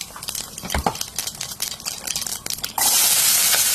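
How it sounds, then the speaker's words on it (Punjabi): Cumin seeds hit hot mustard oil in a kadai on a gas stove, a crackling spatter over stirring clatter that bursts into a loud, steady sizzling hiss in the final second. "ਸਰੋਂ ਦੇ ਤੇਲ ਨੂੰ ਗਰਮ ਕਰਕੇ ਫਿਰ ਉਹਦੇ ਵਿੱਚ ਜੀਰਾ ਪਾ ਲਓ"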